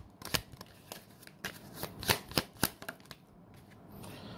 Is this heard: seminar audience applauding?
no